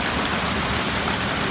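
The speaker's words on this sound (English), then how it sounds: "It's raining." Steady rain falls outside in a dense, even hiss that holds without a break, close and moderately loud.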